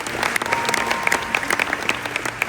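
Applause from a gala audience at an awards ceremony, with dense, steady clapping from many hands throughout, moderately close and without speech.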